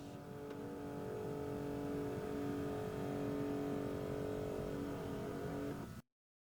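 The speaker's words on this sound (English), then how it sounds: "Listen to the sounds as the internal air routing mechanism is being repositioned to its default resting state." Inside a Jaguar XK8 with the engine idling, the climate control air routing mechanism whirs steadily as it repositions, a low continuous hum that holds for about six seconds and then cuts off abruptly.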